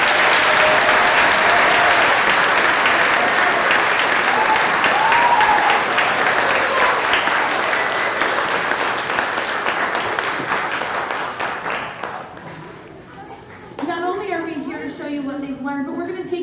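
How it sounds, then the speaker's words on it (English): Loud, sustained audience applause fills a school winter concert hall, dense clapping and crowd noise for about twelve seconds before fading, with a voice speaking over the tail end. "Can we give them a round of applause?"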